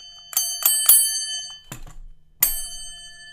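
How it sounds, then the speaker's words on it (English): Bell struck several times, three quick bright rings followed by a duller thud and a final ring, each leaving a metallic decay, loud and close. "the bell sounded a little constipated there."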